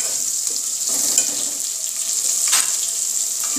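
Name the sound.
potatoes frying in a pan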